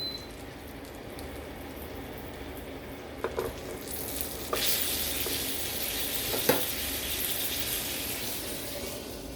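Honey miso glazed salmon steaks sizzling in a pan, a steady frying crackle with a few sharp clinks and scrapes, growing brighter and louder midway.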